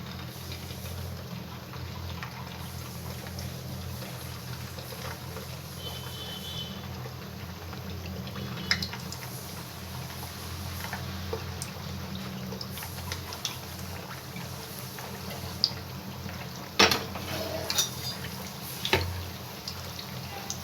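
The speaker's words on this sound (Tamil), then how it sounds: "அடுப்பில் எண்ணெய் காய வச்சுருக்கேன் இதை பொறிச்சு எடுத்துக்கலாம்" Heart-shaped semolina sweets deep frying in hot oil, a steady close bubbling hiss that runs throughout with a few small clinks and taps near the end.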